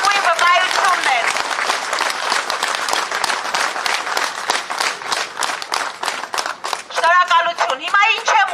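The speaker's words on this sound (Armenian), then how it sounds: "բայց այս ծափերը դրանց լավագույն վկայությունն են" An audience at a political rally breaks into loud, sustained applause, dense clapping with crowd noise that keeps up its intensity throughout, with a few voices rising out of it toward the end.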